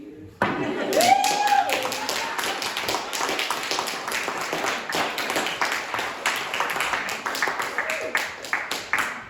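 Sustained audience clapping after a live music performance at a music, poetry and prayer gathering, a steady dense patter of many hands lasting several seconds, moderately loud with a voice briefly heard near the start.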